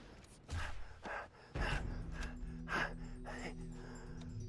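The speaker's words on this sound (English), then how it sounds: "That heavy breathing." Heavy, ragged breathing from Halo 3: ODST on Xbox 360 comes in several gasping inhales and exhales, close and moderately loud over faint game ambience.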